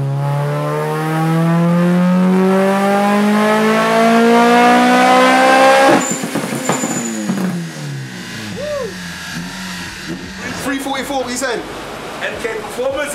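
A car engine revs hard on a dynamometer during a power run at a dyno day, rising in a long, loud, steady climb before cutting off abruptly, with rattles and people talking afterward.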